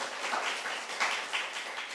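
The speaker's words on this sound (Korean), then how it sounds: "우리 청년들을 위해서 다시 한번 크게 한번 박수 주시면 감사하겠습니다" A church congregation applauds the young people after a lively worship song, a steady wash of many hands clapping together that stays even and moderately loud for the whole stretch, with no voices standing out.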